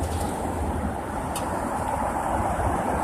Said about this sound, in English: If it gets windy, I can't help that, right? It's just a windy day in New York.